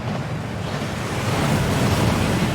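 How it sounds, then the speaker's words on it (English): A waterfall in the Hogwarts Legacy video game rushes in a loud, unbroken roar of falling water, steady and close, with no talk over it. "That waterfall washes away all enchantments."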